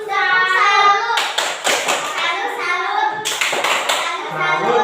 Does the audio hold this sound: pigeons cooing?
no